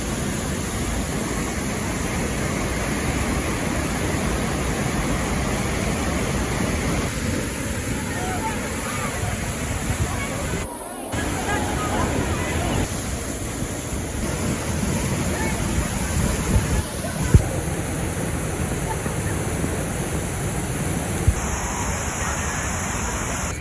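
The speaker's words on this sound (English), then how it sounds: "You cannot get any closer to the waterfall than being in the waterfall." Roaring water of Niagara Falls heard from up close in the mist, a loud, unbroken wash of white noise with wind buffeting the microphone.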